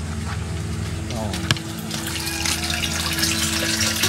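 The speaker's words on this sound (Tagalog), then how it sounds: "Malakas na yung tubig." Pumped water gushes strongly into drums, a steady loud rushing and splashing flow that continues throughout, with people talking over it.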